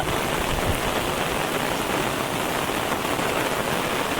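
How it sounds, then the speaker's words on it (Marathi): Dense, loud, unbroken downpour of heavy rain in rural Konkan, drops pounding the ground nearby in a continuous rushing hiss with no voices. "हे बघा पाऊस भरपूर पडता"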